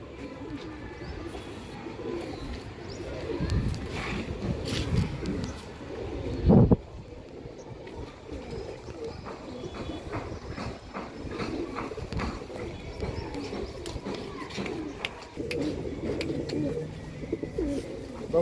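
Pigeons from a newly acquired Andhra collection coo in a loft, with soft wing flutters and shuffling throughout and one sharp thump partway through.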